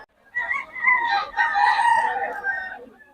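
Stag roosters about 11 months old crow at a poultry spot in Bocaue, with several overlapping cock-a-doodle-doo calls close by and loud, backed by faint clucking.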